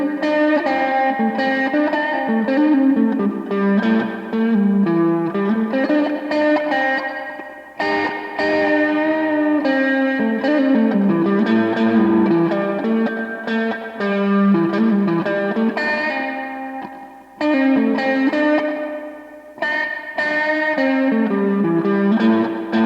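Music played through a Moskey digital spring reverb effect unit: loud sustained tones with a washy, splashy, echoing tail that keeps ringing and cuts off sharply in short gaps between phrases.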